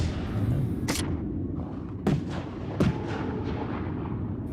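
Artillery in a competitive online shooter pounds rooftops, with three sharp booming impacts spaced a second or so apart over a steady low rumble of battle noise.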